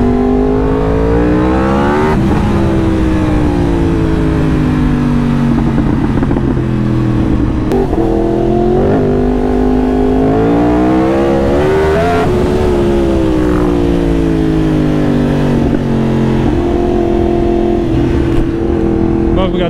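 A very fast motorcycle being ridden in Thailand, its engine heard from outside as a loud, continuous roar that climbs and falls through repeated revs and gear changes, with someone talking over it.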